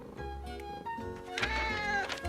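Cartoon cat meowing in a children's animated story, a few drawn-out tonal cries over soft background music, close and fairly clear.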